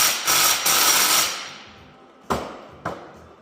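Ratchet snugging a pin on the transfer case of an ST185 Celica All-Trac, starting as a loud burst of close metallic clicks that taper off, followed by two sharp, separate clicks.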